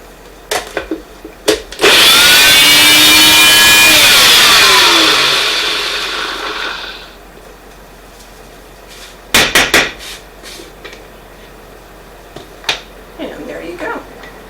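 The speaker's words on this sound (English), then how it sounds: "Actually, this is stevia, so maybe I should grind that one down." Dried stevia leaves are ground into powder in a small electric grinder, a loud motor whine rising then slowly winding down over several seconds, followed by clattering knocks and handling noises.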